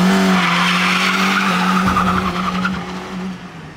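Car tires squeal and skid loudly on a driving lap, a sustained close screech over engine noise that tapers off toward the end.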